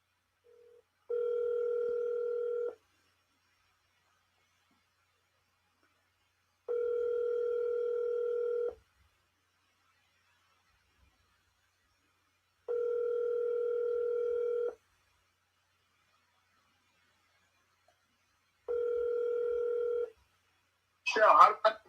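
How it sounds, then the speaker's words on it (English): A telephone dial tone comes and goes in four steady, clean bursts about two seconds long with silent gaps between, followed by a brief burst of noise at the end, placed before a phone call. "let me call him on the phone"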